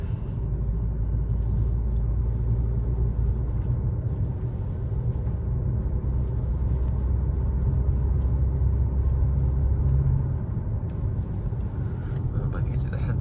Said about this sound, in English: The exhaust on this car is stock and it is in dynamic mode.